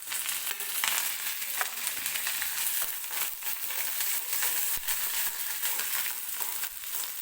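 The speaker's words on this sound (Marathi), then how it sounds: "कांदा व्यवस्थित तेलामध्ये भाजून घ्यायचा, मऊ होईपर्यंत भाजायचा आहे" Chopped onion and curry leaves frying in a tempering of hot oil and cumin, a continuous close sizzle with intermittent spatula scrapes and crackles throughout, no talking.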